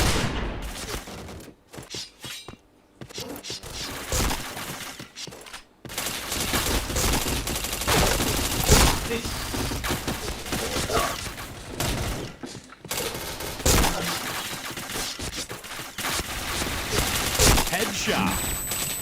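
Rapid gunfire from a shooter video game, with dense bursts and automatic volleys rattling almost without a break and only a few brief gaps between loud sequences.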